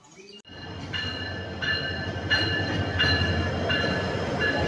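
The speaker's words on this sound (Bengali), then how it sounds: "ট্রেন চলে আসছে কুমিল্লা" A train rolls into a large railway junction on the Brahmanbaria to Comilla line, with a steady low rumble under a regular clickety-clack of wheels over rail joints that grows louder and nearer.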